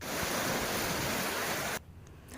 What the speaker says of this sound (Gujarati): વડિયાના નજાપુર ગામે પસાર થતી નદીમાં પૂર આવ્યાના આ દ્રશ્યો